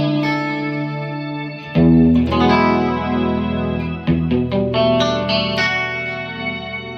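A left-handed 2005 Mexican-made Fender Stratocaster in the second pickup position, volume about 5, played through a Music Man RP112 amp: glassy, plucky chords with a shimmering chorus-like effect, loud and sustained with a few sharper strums and no talking.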